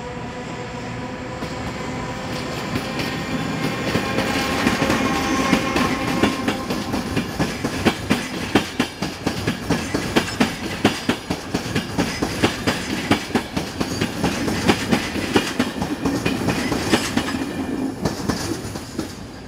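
Slovak Class 757 diesel locomotive 757015 pulls away from Prievidza station with a passenger train for Bratislava, its engine drone building under a steady, loud clickety-clack of wheels on rail joints, with no voices.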